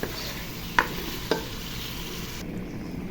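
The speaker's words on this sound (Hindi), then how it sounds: "यहाँ पर मेरा चिकन पक रहा है" Chicken with spices fries in a pan, giving a steady low sizzle, with two sharp clinks of a utensil against the pan as it is stirred.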